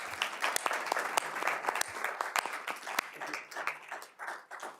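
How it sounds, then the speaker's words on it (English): Audience applause at a school board of education meeting, a dense patter of claps holding steady for about five seconds before thinning out near the end. "Let's give them a round of applause."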